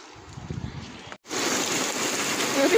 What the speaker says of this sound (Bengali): ঝুপ ঝুপ করে বৃষ্টি নামতেছে, ঝুপ ঝুপ, ঝমঝম আওয়াজ বৃষ্টির